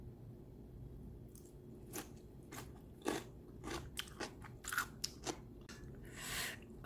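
Crunchy cucumber kimchi made with onion and corn syrup being eaten up close, with a series of crisp bites and wet chewing crunches at an uneven rhythm against a quiet background.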